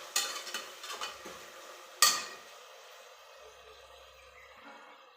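Mint leaves dropped into hot sizzling oil and stirred in a pan, with a few scraping clinks of a utensil, a sharp clatter midway, then a quieter fading sizzle.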